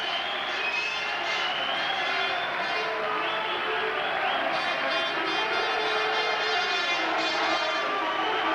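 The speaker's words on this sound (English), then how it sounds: "and listen to this applause" Crowd applauding and cheering in a boxing arena at the Elephant and Castle as a fighter walks in, a loud, steady roar that holds throughout.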